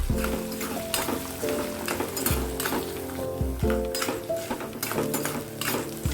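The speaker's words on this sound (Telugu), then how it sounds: "ఇలా కలబెట్టుకుంటూనే ఉండాలి." Green chillies fry in a pan for raw mango pulihora, a steady loud sizzle broken by repeated scraping and clinking of the stirring spoon against metal, with no voices.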